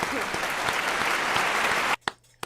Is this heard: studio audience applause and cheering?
yes